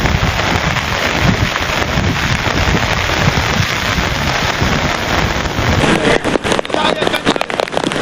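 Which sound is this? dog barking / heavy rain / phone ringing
heavy rain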